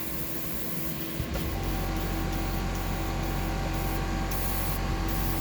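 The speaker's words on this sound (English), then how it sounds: "just for the air, the cold air, the cool air, which will make this dry out and not crack" Cool air blows steadily to dry a freshly painted fishing lure, a constant close hiss with a low hum beneath and faint periodic ticks.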